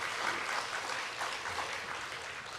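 Church congregation applauding during a Sunday evening service, a steady even wash of many hands clapping, fairly distant and soft.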